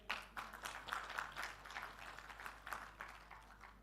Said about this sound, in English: A big round of applause for him.